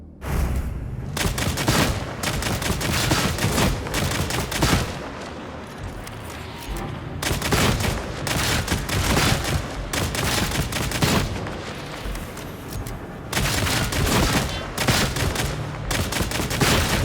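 Stub pistol gunfire in the video game Darktide: loud, rapid shots packed into dense bursts, nearly continuous, with short lulls midway and near the end, and no voices.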